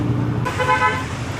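Road traffic in the Philippines hums along, and a loud car horn toots once, close by, in the middle of the brief moment.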